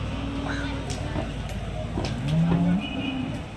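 Buffalo calves and buffaloes at an outdoor cattle market in Manjeri give a low, drawn-out moo over a steady hum of crowd and traffic noise. Muffled talk can be heard in the background.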